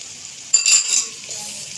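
Onion and vegetables sizzle in hot oil in a pan while macaroni is prepared, a steady frying hiss that swells loudly for a moment as the onion goes in, then settles to a softer crackle.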